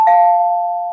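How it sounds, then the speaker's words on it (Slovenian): An apartment doorbell at the entrance gives a single loud electronic ding with a steady ringing tone that slowly decays over about a second, heard alone. "pa bom kar pozvonil"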